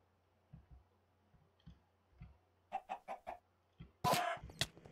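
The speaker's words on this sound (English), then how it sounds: "Wow, that chicken's really brave." A chicken clucks in the Minecraft 1.9 video game. A string of short, soft clucks and clicks builds to a quick cluster of louder ones, then ends with a harsher, noisy burst.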